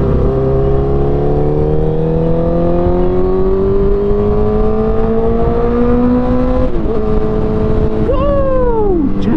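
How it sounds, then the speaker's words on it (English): A 2012 Honda CBR1000RR inline-four engine with 62,000 miles and a loose throttle cable revs loud and close, its pitch climbing steadily before blipping up and dropping back near the end. "Just hearing that inline four again, man."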